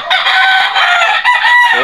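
Loud, drawn-out crowing from a recovering pet chicken being treated for a cold and eye discharge, one continuous call close by with a brief dip near the end, no speech.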